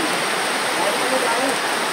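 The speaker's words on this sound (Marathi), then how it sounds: "आज भरपूर पाणी पडतोय आणि हा हत्ती पाऊस आहे" Heavy monsoon downpour: a dense, even hiss of rain falling steadily and close, with no distinct individual drops.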